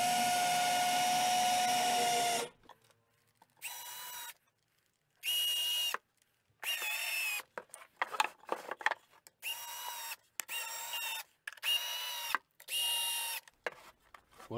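A power tool fixes a wooden strip onto a Kenyan top-bar beehive: a whining drill-driver runs in about eight short, close bursts with quiet gaps between them. The pitch sags as the screws bite into the wood.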